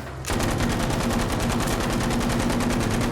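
Sustained automatic gunfire from the World War II shooter Battlefield V, a loud, dense, rapid stream of shots that starts abruptly and keeps firing without a break.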